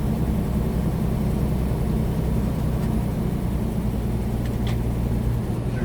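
A heavy loaded semi truck grossing 75,000 pounds slows from highway speed on Highway 89 near Page, Arizona, its engine a loud, steady low drone with constant road rumble and no clearly separate gear change.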